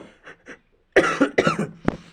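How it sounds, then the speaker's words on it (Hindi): A few coughs from a physics lecturer during a class 12 lesson. They come as faint short coughs first, then louder throat-clearing coughs close to the microphone and one sharp final cough. "थोड़ी सी खांसी हो गया"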